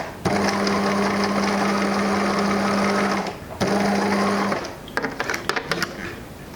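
A sewing machine stitches elastic onto a fabric barrier mask in two close, steady whirring runs separated by a short pause, followed by a few quieter clicks and handling noises.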